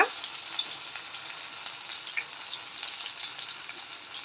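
Raw banana pieces sizzle and fry steadily in hot coconut oil, a continuous close crackle with small pops and no voices.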